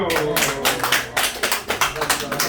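An audience at a scholarship society gathering led by a Buddhist monk claps in a short, uneven burst of close, sharp handclaps for about two seconds, with a voice faintly present.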